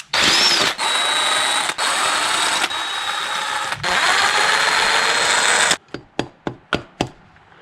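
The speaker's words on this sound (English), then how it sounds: "I'm gonna break them loose with the ratchet and then remove them all the way with the impact" An impact wrench rattles loose 10 mm valve cover bolts on a 2003-2007 Honda Accord V6, loud sustained bursts close up, followed by a run of about six sharp metallic clinks as parts are set down.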